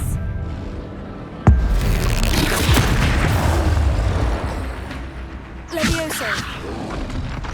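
An Expelliarmus spell fires in a wizarding video game with a sudden sharp impact and booming rumble, followed by sustained combat noise and a second hit a few seconds later, with spoken voices around it.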